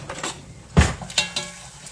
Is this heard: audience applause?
no